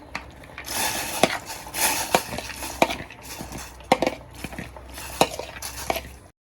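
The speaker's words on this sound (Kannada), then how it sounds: "ನಾನು ತೊಗರಿಬೇಳೆ 1/4 ಅವರ್ ಮುಂಚೆ ನೆನೆಸ್ಕೊಂಡಿದ್ದೆ. ಇದನ್ನು ನಾನು ಹಾಕ್ತೀನಿ." Soaked toor dal tipped into a hot pan of heated water, giving a run of scattered clinks, scrapes and soft splashy knocks of utensils against cookware, close and moderately loud, with no talking.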